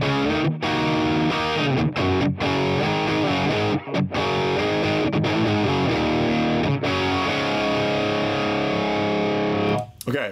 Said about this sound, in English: Oh, and there's a pedal there that's blacked out, so that's off. Diode distortion.